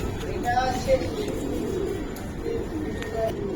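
Giribaz pigeons coo in soft, short bursts close by, several calls scattered across a few seconds under a man's conversational speech.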